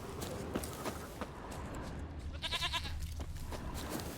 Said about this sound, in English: if I hear a goat